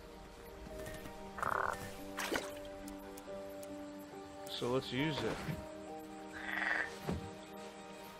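Frog croaks sound in a King's Quest video game, short croaking calls over a steady humming game soundtrack with squishy, dripping effects, while someone talks briefly.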